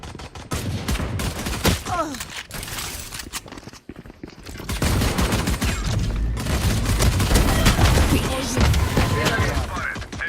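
Dense, rapid gunfire in a video game: loud overlapping bursts of shots that run almost without pause, with a brief lull partway through before the firing resumes heavily.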